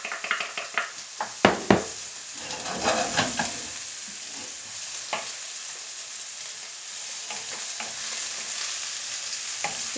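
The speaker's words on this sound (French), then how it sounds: "Vous faites en sorte que les oignons cuisent tranquillement." Onions frying in a hot pan, a steady sizzle beneath sharp clinks and scrapes of a utensil stirring, busiest in the first few seconds and then settling into continuous frying.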